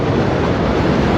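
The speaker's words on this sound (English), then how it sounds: "There's the world famous subway." A New York City subway train rolling across the Queensboro Bridge, a loud continuous rumbling roar heard up close from the bridge walkway, with no voices over it.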